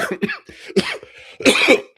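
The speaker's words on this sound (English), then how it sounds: "he says as he immediately starts coughing." Someone coughs repeatedly in a harsh, rapid burst of several hacking coughs, close and loud.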